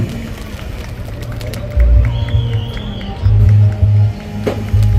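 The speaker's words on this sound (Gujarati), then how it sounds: "જોરદાર તાળીઓ પાડો" Crowd at an army personnel honour ceremony applauds and cheers in loud bursts, swelling several times over a steady crowd murmur.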